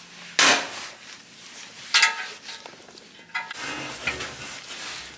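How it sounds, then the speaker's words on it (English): Three sharp, close metallic taps, spaced a second or two apart, as a hammer strikes a center punch against metal on a Honda Civic rear brake conversion. "So I'm gonna make a punch here, and I'm going to drill through that"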